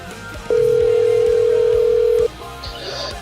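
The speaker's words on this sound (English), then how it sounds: "It's ringing." A single steady ringback tone on an outgoing call to a radio show line sounds loud and continuous for nearly two seconds, then cuts off, followed by a faint higher tone.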